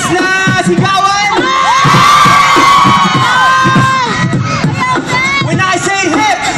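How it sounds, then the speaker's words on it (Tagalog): A concert crowd at a hip-hop show yells and cheers loudly and continuously, a dense wall of shouting voices with whoops riding over it throughout. "Pwede ba rinig na isang malakas na sigawan?"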